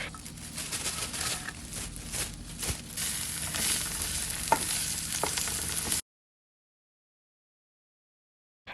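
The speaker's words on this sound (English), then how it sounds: "So I'm going to go ahead and cook my onions, get them to the translucent point." Onions sizzle in oil in a pan with salt and pepper while being stirred, a steady close frying hiss with occasional scraping clicks, then it cuts to silence.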